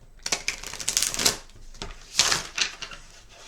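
Brief bursts of stiff, new tarot cards from The Field Tarot deck riffling and tapping, two short flurries separated by a quiet pause, close and fairly soft.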